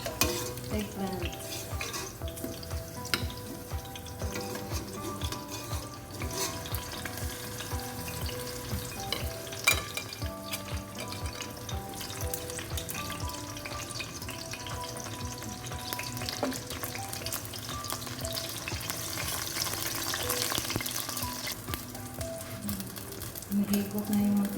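Eggplant frying in hot oil for a Maqlooba, a steady sizzle across the whole stretch with frequent scrapes and clinks of a utensil stirring the pan, close and fairly loud with no talk.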